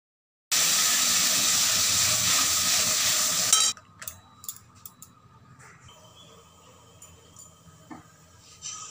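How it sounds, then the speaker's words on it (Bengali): Egg curry broth with plantain, potato and papaya coming to a boil in a pot, a loud steady hissing bubble for about three seconds that then drops away to quiet kitchen clatter and faint clinks. "ঝোল ফুটে উঠেছে"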